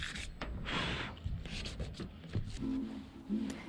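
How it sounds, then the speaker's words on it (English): Light hand sanding of a Ford Transit MK8 van's painted metal roof with very fine sandpaper, a soft close rasping rub in short uneven strokes with small knocks. "Just give the area on the roof a light sand with a very light sandpaper"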